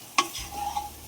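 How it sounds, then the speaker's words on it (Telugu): A single clink of a spatula against a non-stick pan, then a brief soft scrape and faint sizzle as spiced curry is turned over, short and quiet. "కూర మొత్తం కారం పట్టేటట్టు తిప్పుకోండి"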